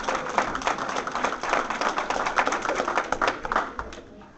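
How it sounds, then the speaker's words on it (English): A classroom bursts into brisk, scattered clapping for a first-place winner, a dense patter of many hands that holds steady and then tapers off near the end. "Let's give him a big round of applause"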